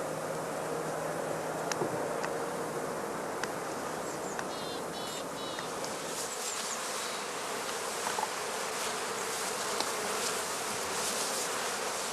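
A dense swarm of honey bees buzzes continuously around heather skep hives in spring, a loud, steady drone with individual bees zipping close by.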